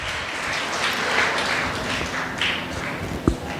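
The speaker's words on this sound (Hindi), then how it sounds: "तालियां बजती रहनी चाहिए।" An audience at a state-level quiz show claps in a brief, busy patter of applause, moderately loud, with a single sharper knock near the end.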